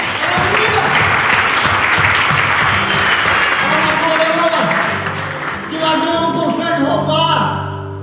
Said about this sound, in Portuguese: Bata palmas do Senhor.